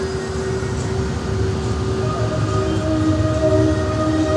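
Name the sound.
roller coaster train at Blackpool Pleasure Beach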